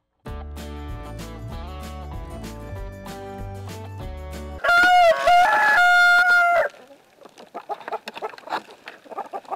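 A loud, sustained tonal stretch gives way to soft, irregular clucking from hens nearby.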